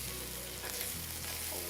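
Dried fish thokku is stirred in a frying pan, giving a dense, loud sizzle with faint scraping of the spoon throughout; no talk.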